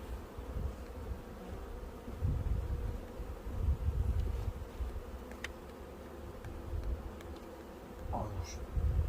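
Honeybees drone steadily around an open hive during a spring inspection, a dense, low buzzing that swells and fades over the whole stretch, with occasional faint clicks and no speech.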